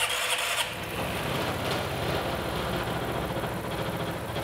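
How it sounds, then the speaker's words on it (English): Vespa/Piaggio scooter with an electrical fault, its small engine running in a steady, fast putter at close range after starting up, moderately loud and constant. "I'm going to go ahead and start the scooter."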